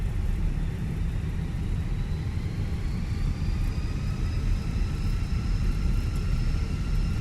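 Airbus A320 jet engines spooling up for a rolling takeoff in a flight simulator, a steady loud roar with a rising whine that climbs gradually in pitch, no talking.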